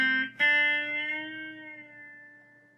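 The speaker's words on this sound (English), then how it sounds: "Okay, now I'm playing this with the echo unit off." An electric guitar plays a short phrase from an instrumental with no echo effect: one note, then a struck note that rings and slowly decays, clean and close.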